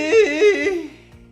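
A singer's voice sustains a note that breaks and cracks at the very start of a performance, a short pitched vocal wobble that fades out within about a second.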